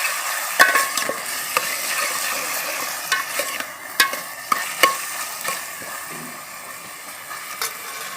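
A bhel mixture is stirred in a pan, with repeated sharp scrapes and clinks of the utensil against the metal at irregular intervals over a low background hiss, close and without voices.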